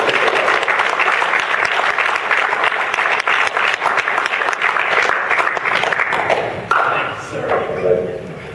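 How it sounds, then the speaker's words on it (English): A keynote audience at a university graduation breaks into sustained, loud applause, dense clapping rolling on for several seconds with crowd voices mixed in before it begins to thin out. "Give yourself a round of applause."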